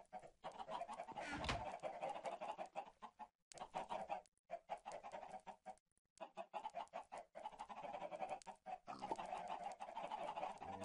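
Captive chickens cluck and squawk in the Agrarian Skies video game, a busy overlapping flock of clucks with brief gaps of silence, loud and close.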